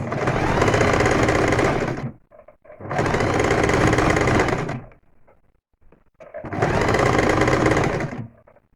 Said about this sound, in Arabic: هنا بديت حطيت الكلفة على الطقم وراح أبدي أخيط